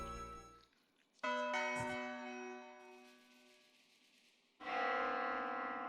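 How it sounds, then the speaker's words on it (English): Wedding bells ringing in the Death Mark 2 video game, one struck bell tone ringing out and decaying, followed by a second bright chime that swells and sustains, fairly loud and alone. "Oh, it's the bell."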